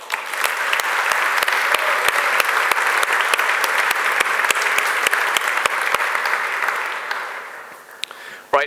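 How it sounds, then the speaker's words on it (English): Loud, sustained audience applause at a software conference opening keynote, dense clapping with scattered sharp hand claps, tapering off near the end. "give a big round of applause to everybody that actually helped making Umbraco 8 happen"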